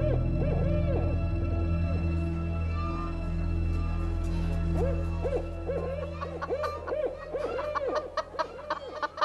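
Strange hooting bird calls ring out repeatedly in a gently echoing space, layered over a steady low drone, growing busier and more scattered toward the end.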